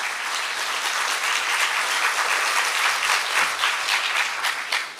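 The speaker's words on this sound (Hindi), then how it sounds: "clap for yourself," Audience at a Brahma Kumaris student congregation clapping for themselves, a dense, steady burst of many hands held for several seconds before tapering off at the end.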